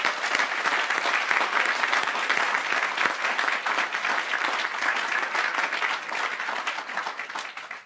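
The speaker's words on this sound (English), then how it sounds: "Let's give them a big round of applause." A large audience at a county association closing address applauds veterans, a dense, steady round of clapping that carries on for several seconds with no voices over it.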